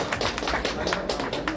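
Applause from an audience at the grand trailer launch of the Bhojpuri film Muqaddar Ka Sikandar: a steady, dense patter of many hands clapping together, loud and continuous for a short burst.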